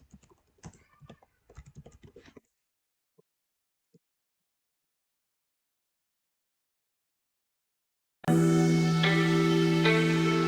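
Quick, uneven keystrokes on a computer keyboard fill the first couple of seconds, followed by a few isolated taps and a long silence before loud tonal music abruptly cuts in.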